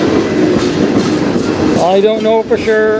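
CN freight train rolling past in Sarnia, Ontario, a dense close rumble of wheels and cars with rhythmic clatter, while a person speaks briefly over the noise near the end.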